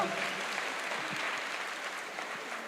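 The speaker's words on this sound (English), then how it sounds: "A round of applause." An audience at a university career and academic day applauds a student, a steady, dense wash of clapping from a large crowd, somewhat distant and even throughout.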